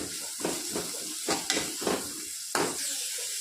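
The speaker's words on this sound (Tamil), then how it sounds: "வெங்காயம் நல்லா வதங்கட்டும்" Onions sautéing in a pan for a potato snack, a soft continuous sizzle broken by about five louder stirring scrapes and clinks of a spoon against the pan, close and without talking.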